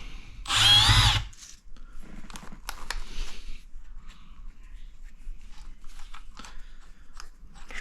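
An electric drill whirs in one loud, steady burst of about a second while pressing in roller bearings for a skid steer attachment, followed by quieter handling clicks and knocks.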